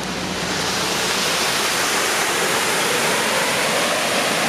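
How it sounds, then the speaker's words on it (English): Steady roar of a waterfall beside a road in Gros Morne, Newfoundland, a dense continuous rush of falling water, close and loud with no other sounds. "Not a bad waterfall for the side of the road."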